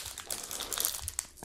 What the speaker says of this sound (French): On va ouvrir les 8 boosters.